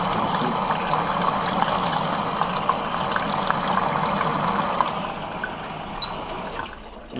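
Water rushes steadily into a Miele W5748 washing machine through the main wash detergent compartment during a service test cycle, a loud continuous flow that runs unbroken for several seconds before easing off.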